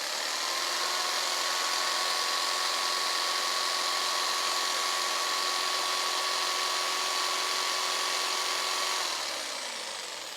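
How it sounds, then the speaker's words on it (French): A jigsaw whirs at a steady high pitch for about nine seconds, then winds down as it stops. "Ici, on est sur une scie sauteuse."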